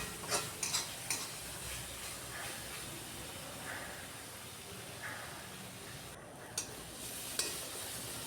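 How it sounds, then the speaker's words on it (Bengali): Spice paste being fried down in oil and stirred repeatedly in a pan, a faint steady hiss and sizzle with occasional soft ticks and scrapes of the spatula, no one talking. "খুব ভালো করে বারবার নাড়িয়ে মশলাটা আমি কষিয়ে নিচ্ছি।"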